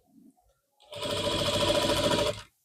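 A sewing machine runs one fast, continuous burst of stitching at the corner of a blouse border, loud and close, with a whirring mechanical buzz that starts abruptly and cuts off after about a second and a half.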